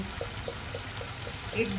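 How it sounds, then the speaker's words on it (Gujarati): A glass of water is poured into a pan of cooking vegetables, giving a soft, steady liquid pour with faint splashing, close and fairly quiet throughout. "1 ગ્લાસ પાણી નાખીને"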